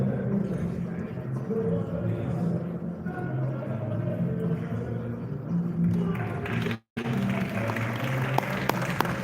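Audience applause at a literature and science award night, a steady wash of clapping from a large crowd filling the whole stretch, with a brief dropout near the end.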